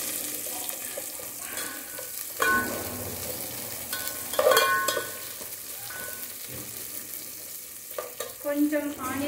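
Sliced onions fry in a pan with a continuous close sizzle, punctuated by a few clattering stirs and scrapes of a spoon against the metal.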